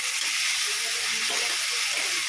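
Chicken frying in hot oil with onion, green chilli and nigella seeds, a steady close sizzle and hiss with no talking.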